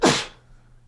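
A single quick, sharp sneeze close by, a breathy burst that fades within a fraction of a second into near silence.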